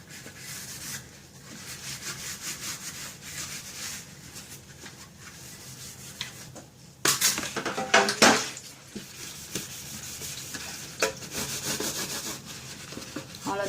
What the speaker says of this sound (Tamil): ஒன் பை ஒன் நான் வாஷ் பண்ணலாம்.